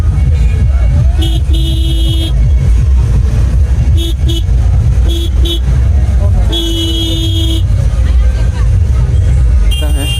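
Dense road traffic with the constant rumble of engines close by, broken by several short horn toots and one longer honk.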